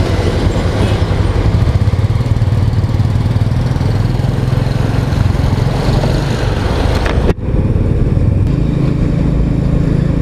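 A motorcycle rides along a road near Siliserh Lake in Alwar, Rajasthan. The engine drone and wind rumble are loud and continuous, with a brief dip near the end.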